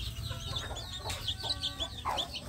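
Free-range village chicks of the kampung breed peep and cheep in repeated bright bursts, close by, with a low rumble of a truck or engine underneath throughout.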